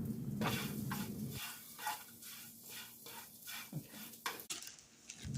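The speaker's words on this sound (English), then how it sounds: "I add this back to the skillet and mix it with the potatoes." Food being stirred together with potatoes in a skillet, close scraping and clattering of a utensil against the pan in irregular strokes over a soft sizzle.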